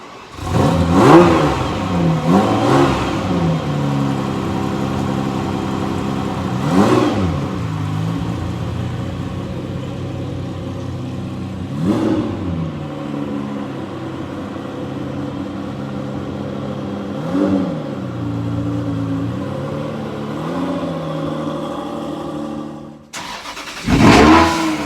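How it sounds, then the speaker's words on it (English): A Ferrari 360 engine idles with a steady mid-pitched rumble, blipping into several short revs at irregular intervals as the car is moved, close and loud throughout before briefly cutting out near the end. "So I'm going to move the car out."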